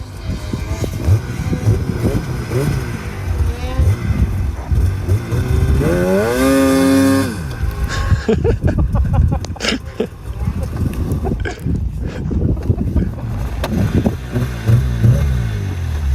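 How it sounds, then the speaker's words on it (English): A Polaris vehicle engine cranks, catches and revs up, rising through a strained run-up before settling into a rough, loud idle, with people talking and exclaiming over it. "Never wants to fucking start. Well, it's a Polaris."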